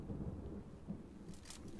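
Low rumbling thunder from dynamic weather in the mobile battle royale game PUBG Mobile, a faint distant roll rising and falling through the short stretch with soft hiss above.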